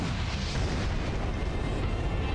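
Continuous roaring blast noise from missile explosions in Armored Core 4, a dense rumbling wash with no clear gaps, steady and fairly loud for the whole stretch.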